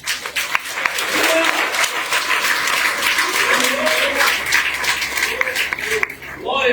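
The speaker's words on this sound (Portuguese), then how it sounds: "Aplauda o Senhor Jesus." Congregation in a Portuguese-speaking church applauding, sustained, fairly loud clapping with scattered voices calling out, fading near the end.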